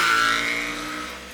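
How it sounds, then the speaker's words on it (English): A 2024 Triumph Tiger 900 GT motorcycle engine revs up close with a raspy, deep growl that peaks at the start and then eases into a steady fading drone, heard alone. "It's a raspy, deep, angry growl, and I think it makes for a great companion in a motorcycle like this."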